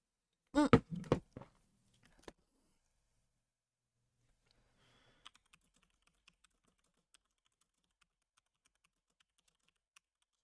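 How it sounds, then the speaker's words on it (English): Computer keyboard typing: a brief faint voice at the start, then sparse, quiet, irregular key clicks scattered across a near-silent room. "I'm typing in Dina's chat"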